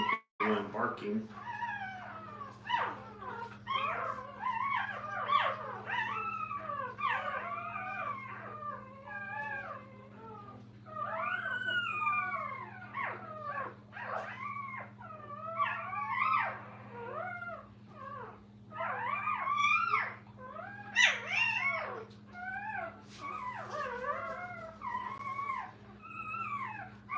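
Young puppies in a training kennel yelp, whine and howl in rapid, overlapping high-pitched cries, fairly close and continuous, over a steady low electrical hum.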